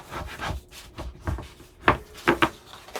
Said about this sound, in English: I'm going to take my bone folder and find the edge of the chipboard, and then I'll use the surface and fold